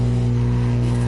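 A fully modded Mini Cooper in the racing game The Crew, its engine giving a loud, steady, close buzzing drone at high revs that cuts off sharply at the end.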